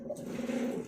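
A bandangan bird calling close by, a single low cooing note held for nearly a second, clear against a quiet background.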